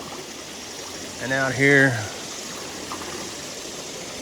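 A small waterfall pouring over piled loose cobbles makes a steady rushing wash throughout, with a person talking briefly over it.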